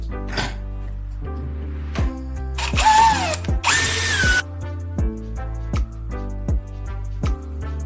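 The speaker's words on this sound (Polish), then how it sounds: "Zamocuj opaskę w imydle i rozszerz otwór wiertłem." Power drill widening a hole in a plastic cable tie clamped in a vise, heard as two loud, rising whine bursts of a few seconds each over steady background music with rhythmic beats.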